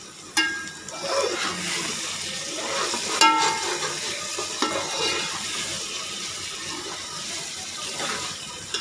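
Potatoes and masala for pulao in a pot, stirred with a spoon: scraping and clinking strokes over a low sizzle, close and moderately quiet, with a couple of sharper knocks against the pot.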